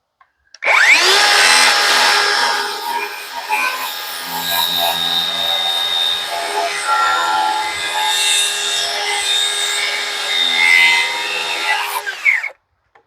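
Power saw slicing through a wooden rafter, a loud close whine that starts abruptly, holds a strained buzzing tone with slight dips as the blade bites, then cuts off sharply near the end.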